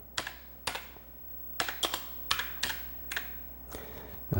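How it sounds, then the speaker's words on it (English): Keys on a damaged Commodore SX-64 portable computer's keyboard are pressed one at a time, about eight to ten sharp, close clicks in an uneven rhythm against a quiet background. "we got some keys that are a little temperamental"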